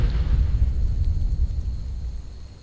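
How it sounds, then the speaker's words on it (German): A deep, booming explosion in the Enderal video game rolls out as a heavy low rumble and slowly fades over a couple of seconds, with no voices. "Das war die Explosion."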